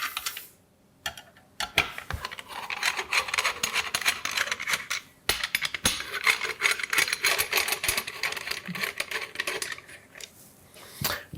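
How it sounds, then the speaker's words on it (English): A Phillips screwdriver squeaks and grinds against mounting screws on a Frigidaire food waste disposer collar, a close, continuous rasping broken by brief pauses. "taking a Phillips screwdriver, loosening off these mounting screws"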